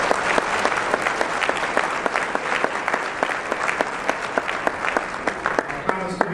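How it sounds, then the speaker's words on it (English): A gym audience gives a steady round of applause for a YMCA of Greater St. Louis crew, dense clapping continuing without pause, with a few louder individual claps standing out. "Please join me for a round of applause"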